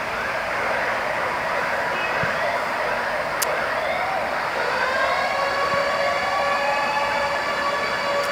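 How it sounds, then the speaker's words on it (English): Ambulance and fire truck sirens wail continuously through the street, rising and falling tones layered over steady traffic noise, fairly loud and nearby. "I see an ambulance and I see a fire truck."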